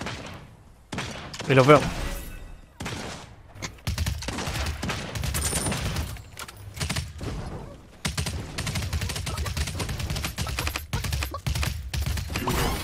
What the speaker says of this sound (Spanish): Y escucho el disparo